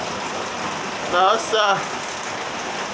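Steady rain falls outdoors in a continuous even hiss, with a brief voice speaking in the middle.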